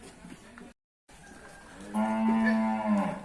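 Cattle low at a livestock market. A short brief sound comes first, then one loud drawn-out moo rings out clearly near the end.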